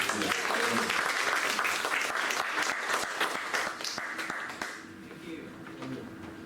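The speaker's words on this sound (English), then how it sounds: "Give a round of applause for Kenneth." Audience applause at a talk as a speaker is introduced, dense sustained clapping that gradually thins and fades toward the end, with voices faintly mixed in.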